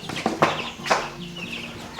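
Chickens clucking in short bursts inside a coop or enclosure, with a few louder close calls over a steady low background murmur.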